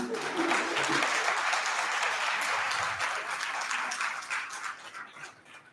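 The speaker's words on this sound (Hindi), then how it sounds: "मेरे कॉन्फिडेंस के लिए जोरदार ताली।" An audience at a two-day national seminar held at a college breaks into loud, dense applause that gradually thins and fades toward the end, with faint voices underneath.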